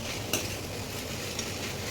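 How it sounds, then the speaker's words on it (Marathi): Vegetables sauté in oil in a pan while penne pasta is cooked at home, giving a steady close sizzle with a couple of brief clinks of a utensil stirring, and no talk. "व्यवस्थित परतून झालेली आहे ऑलमोस्ट भाजी."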